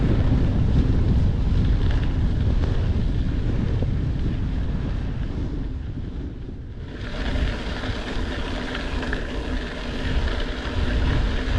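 A headwind roars across the microphone while bikepacking the Colorado Trail, a loud, steady rushing buffet that dips briefly midway and then surges back.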